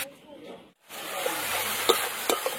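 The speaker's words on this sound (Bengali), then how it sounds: "গ্রেট করে রাখা টমেটো দিয়ে দেবো, দিয়ে এবার ভালো করে মশলাটা কষিয়ে নিতে হবে।" Masala of onion, ginger and garlic with grated tomato frying in a pan: a steady close sizzle broken by a brief pause, then scattered stirring clicks and taps over the hiss.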